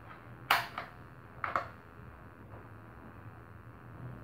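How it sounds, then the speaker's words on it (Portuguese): An air gun fires without a pellet to empty its pressure before valve disassembly: two quiet, sharp pops about a second apart, then faint background hiss. "E continua atirando para esvaziar ela."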